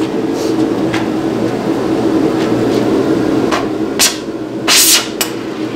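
Stick welding a solid bead over bad welds on a plow disk knife, a steady loud crackling hiss throughout with a few sharper bursts near the end.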